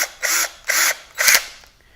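A power drill drives nuts into a 3D printed pulley on a carbon fiber electric skateboard build: three short buzzing bursts of the drill motor in a row, close and loud, separated by brief pauses.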